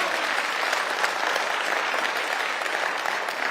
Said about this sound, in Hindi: अगर आपको लगे तो तालियां बजा दीजिए।